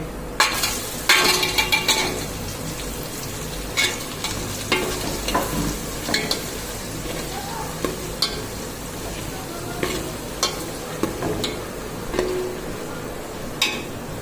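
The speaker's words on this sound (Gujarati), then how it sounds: "તો હવે આપણે નાખી દઈશું કાંદાની કટકી" Chopped onion pieces frying in a pan with hing for Rajasthani dal bati: a steady close sizzle broken by repeated clacks of a spoon stirring against the pan.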